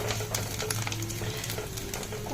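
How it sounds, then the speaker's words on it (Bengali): Grated coconut fries lightly in a pan for a banana-stem vegetarian dish, a close, steady sizzle with soft stirring scrapes and no talking. "নারকেলটা দেখো হালকা লাল করে আমি ভেজে নিলাম"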